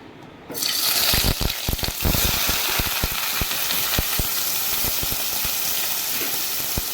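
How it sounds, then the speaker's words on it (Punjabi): Onion and capsicum hit hot oil in a frying pan, starting with a sudden loud hiss that settles into a steady sizzle, dotted with sharp pops and crackles. "ਤੇਲ ਗਰਮ ਹੋ ਚੁੱਕਿਆ ਹੈ ਹੁਣ ਆਪਾਂ ਉਹਦੇ ਵਿੱਚ ਪਾਣੇ ਆ ਪਿਆਜ਼ ਤੇ ਸ਼ਿਮਲਾ ਮਿਰਚ"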